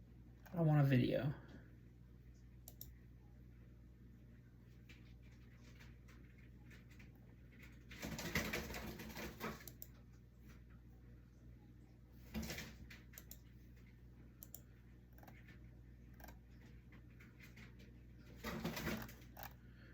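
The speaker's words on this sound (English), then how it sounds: "Got a pigeon in the background being all aggro." A pigeon coos agitatedly in the background outdoors, a few short bursts scattered across a quiet stretch, with a louder rising call near the start and faint intermittent sounds between.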